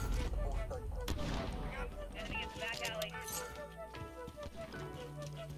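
Shotgun blasts in Call of Duty: Modern Warfare ring out amid a busy, loud multiplayer firefight, with sharp bangs over a dense bed of game effects and music.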